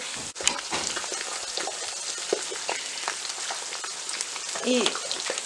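Beaten egg sizzles in a pan beside partly fried carrots and onions for egg Maggi noodles, a continuous close, bright frying hiss with crackles and a few utensil taps.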